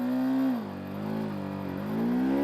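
A TVS Apache RTR 310 motorcycle engine revs in first gear, its pitch dipping and then climbing again in a loud, close, sustained drone.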